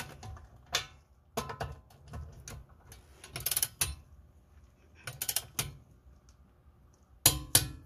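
A torque wrench clicks while rear brake bolts on a 2016 Ford Fusion are tightened: sharp, close metallic clicks and ratcheting in separated bursts over low background hum.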